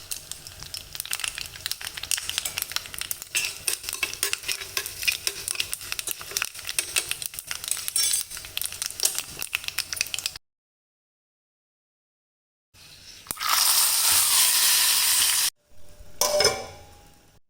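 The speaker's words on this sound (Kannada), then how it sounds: "ತುಪ್ಪ ಕಾದ ನಂತರ ಒಣಮೆಣಸು ಉದ್ದಿನಬೇಳೆ ಮತ್ತು ಸಾಸಿವೆ ಹಾಕಿ ಒಂದು ಒಗ್ಗರಣೆ ಕೊಡಬೇಕು" Dry chillies, urad dal and mustard seeds tempering in hot ghee: a steady close crackle and sizzle for about ten seconds, a pause, then a louder hissing burst that stops abruptly, followed by a short final sizzle.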